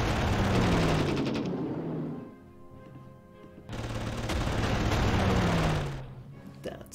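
Gunfire and explosive bursts from the World War II strategy game Panzer Corps, on a Narvik naval scenario, as units fire on an enemy level bomber; two loud dense volleys with a quieter rumbling gap between them.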